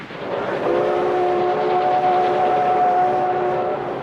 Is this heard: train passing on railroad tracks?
yes